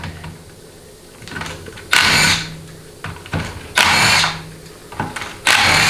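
A power tool spins out the 13mm pan bolts on a grimy 4L60E automatic transmission in a workshop: three short, loud whirring bursts with quiet pauses between them, and no talking.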